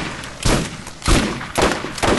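Turret gunfire in the video game Borderlands rattles out in four loud, close bursts roughly half a second apart, each a dense crackling volley fading before the next.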